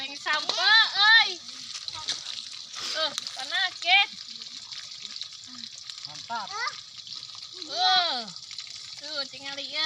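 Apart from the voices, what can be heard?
food frying and being stirred in a wok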